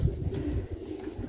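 A yearling racing pigeon coos close by, soft low throaty calls repeating steadily across the moment it returns from a racing flight.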